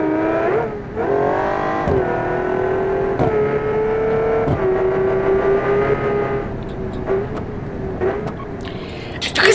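A race car engine in a racing video game, built for 300 MPH, revs and hums at steady high pitch with repeated throttle blips and gear shifts, loud and close, with no talk over it.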